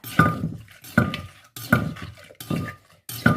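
Utensils toss and scrape through Isan-style fermented-fish papaya salad with field crab (tam pu pla ra), making five rhythmic bursts of clinking, stirring and wet mixing against the bowl, each followed by a brief pause.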